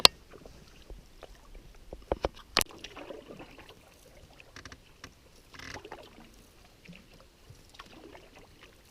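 Canoe paddle strokes dip and pull through calm lake water on Little Cedar Lake in Algonquin Park, faint and close, with a few sharper knocks early on and soft intermittent splashes in a quiet outdoor setting.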